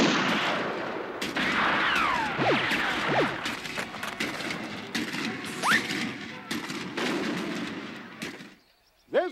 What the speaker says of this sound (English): Start firing over their heads when I give the signal.